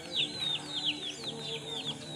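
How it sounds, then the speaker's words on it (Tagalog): A backyard chicken raised at home clucks repeatedly in short chirpy calls, moderately near and fairly quiet, with no talking over it. "May manok, guys."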